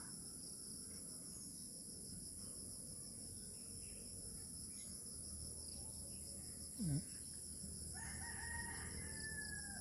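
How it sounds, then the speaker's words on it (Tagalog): A rooster crows once at a distance against a constant high drone of crickets and insects in a quiet rural outdoor setting in the Philippines. "Tilaok ng manok."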